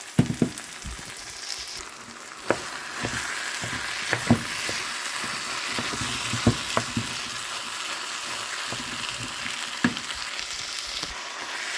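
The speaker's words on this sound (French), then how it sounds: "Maintenant, je vais rajouter la viande hachée. Voilà, je vais mettre tout ça et je vais bien mélanger." Ground meat frying and being stirred together with vegetables in a pan for stuffed crêpes: a continuous sizzle broken by irregular scraping and clinking spoon knocks, close and fairly loud.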